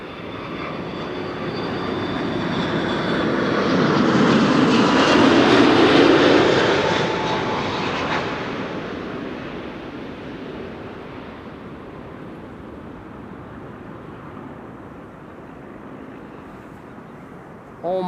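A KLM airliner arriving at Amsterdam Schiphol from Bergen roars in and builds to a loud peak around the middle, then fades gradually into a distant rumble as it passes, with occasional talk.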